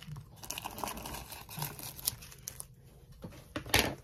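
A paper package being opened by hand gives close, irregular crinkling and tearing rustles with scattered sharp crunches, strongest near the end and with no talk.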